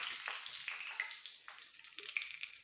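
Fresh curry leaves dropped into hot oil with fenugreek seeds, giving a faint continuous crackling sizzle with brief spitting bursts, quiet and alone.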